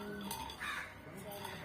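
Crows cawing outdoors, a few faint caws at moderate distance over low background murmur and noise.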